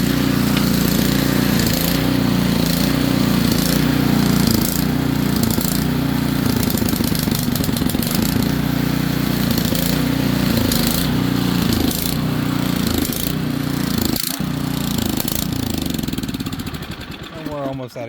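A small engine running nearly out of gas surges, its pitch rising and falling in slow repeating waves. It is steady and close, with a voice talking over it, and the engine dies away at the end.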